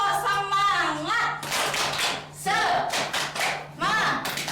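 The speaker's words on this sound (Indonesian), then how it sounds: "Tepuk semangat." A classroom of students performs a rhythmic spirit clap, with sharp bursts of group clapping alternating with the whole class chanting loudly in unison, all close and energetic.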